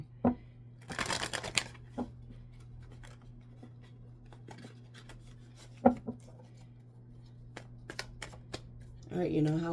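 Tarot cards being shuffled by hand, a quick riffling burst near the start followed by scattered soft taps and rustles over a low steady hum, with more handling noise at the end.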